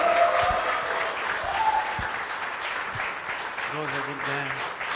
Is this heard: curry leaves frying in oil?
no